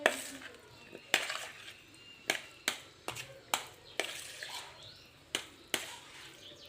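Mashed potatoes with garlic being stirred in a bowl or pot: a series of sharp, irregular utensil knocks and scrapes, about a dozen spaced over several seconds, close and fairly quiet.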